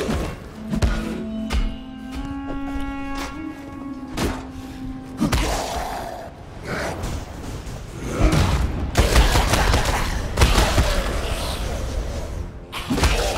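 Sniper rifle fire in a video game: sharp, loud shots and heavy thuds recur irregularly, at first over a steady tonal hum and then amid denser clatter, booms and mechanical clunks.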